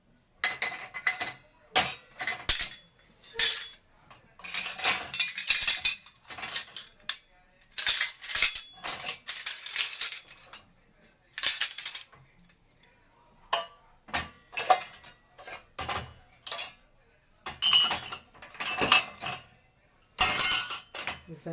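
Glasses, steel cutlery and dishes come out of a Bosch dishwasher after an intensive cycle, clinking and clattering in close, bright bursts separated by short silences.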